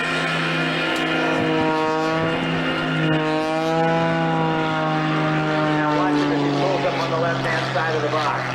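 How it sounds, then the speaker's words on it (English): A modern muscle biplane performing aerobatics at an airport air show, its propeller engine droning loudly with a rising and falling pitch as it maneuvers, while an announcer speaks over the public address. "This is his modern muscle biplane."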